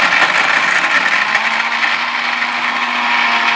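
An Orpat 1200W blender grinds brick into powder, producing a loud, steady high-pitched motor whine with gritty rattling that holds evenly for several seconds.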